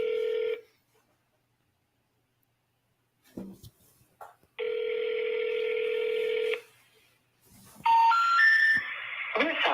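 Ringback tones of an outgoing phone call, two long steady rings separated by silence, then a rising three-note intercept tone, with some brief talk in the quiet gap between rings.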